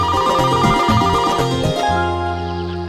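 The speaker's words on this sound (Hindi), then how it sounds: "अरे मेरे सुपरस्टार का फोन आ गया" A mobile phone plays a loud, close melodic ringtone for an incoming call, a bright repeating electronic tune that shifts into a sustained chord near the end.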